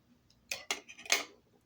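Scissors snip through a strand meant for a bookmark tassel: three short, crisp cuts close by, spaced about half a second apart in an otherwise quiet room with no talking.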